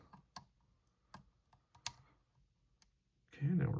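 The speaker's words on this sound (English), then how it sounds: "We got a little click." Small mechanical clicks from picking an Abus 55/40 brass body padlock, a scattered series of sharp, close ticks, ending in a brief burst of louder handling noise.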